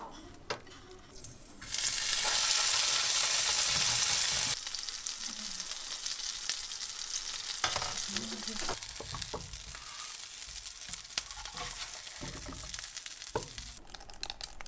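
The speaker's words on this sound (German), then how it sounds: "Wir formen Schnitzel und Braten in einer Pfanne von beiden Seiten." Vegan burger patties fry in a pan with a steady, close sizzle that flares loud for a few seconds, then settles into a constant crackle with occasional stirring or pan noises.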